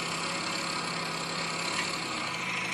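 Steady low idle of a quad bike engine, an even mechanical hum with faint knocking vibration, moderately quiet and unbroken, with no talking.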